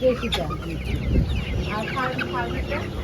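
Chickens cluck and squawk at a busy wholesale poultry market, a close flurry of calls over low crowd murmur and background voices.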